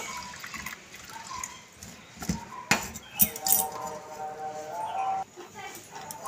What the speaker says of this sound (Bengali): ডালটাকে ভালো করে ধুয়ে নিয়েছি